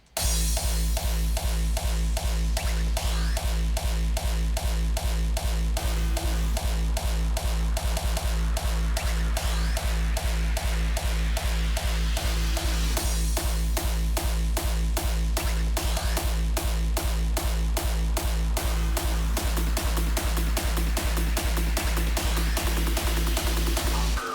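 A hardstyle track outro made in FL Studio 20 pounds loud and dense, with a fast, steady kick driving through a build-up toward the sub drop and final kick, and no voices.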